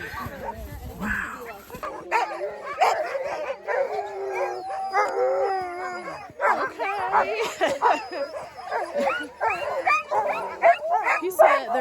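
A pack of sled dogs in Alaska barks, yips and howls excitedly and continuously nearby, with a person briefly speaking over the noise.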